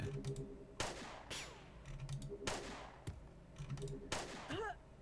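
Scattered pot shots in Jagged Alliance 2: Urban Chaos, a few sharp cracks at irregular intervals over game ambience, with a voice talking.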